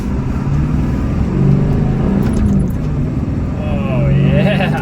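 Turbocharged 1995 Ford F350 pickup accelerating through the first gears, a steady loud engine rumble with rising pitch sweeps near the end, heard from inside the cab.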